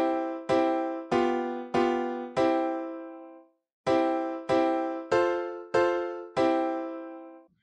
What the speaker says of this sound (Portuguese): Esse é o som de piano.